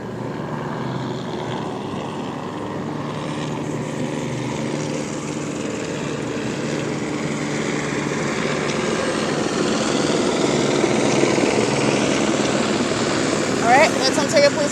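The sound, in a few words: police helicopter flying overhead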